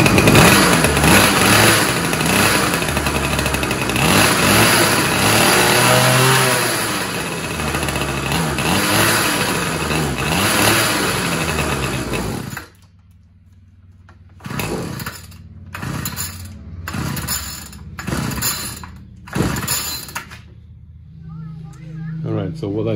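The engine of a broken weed wacker runs loudly and steadily before cutting out, then gives several short sputtering bursts as it struggles to keep running.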